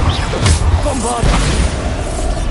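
A Bombarda blasting spell from a wizard video game lands as loud, booming bursts, with two heavy impacts close together over dense game noise and faint voice-like sounds.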